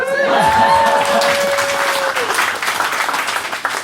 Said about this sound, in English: Hey, you can clap now.